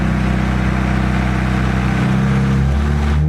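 A Nissan S14 with an SR20 engine idles loud and close after being revved, its steady rumble sagging and faltering as it nearly stalls.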